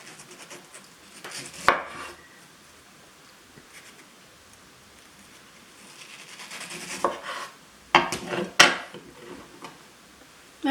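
A knife slices through a mango in the countryside, giving a few scattered cuts and scrapes, some sharp and close, against a quiet background.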